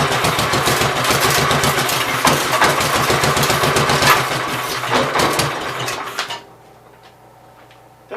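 A Gravely 810 garden tractor engine runs with a loud, rough, rapid chugging and metallic rattle, then cuts off abruptly near the end, leaving near silence.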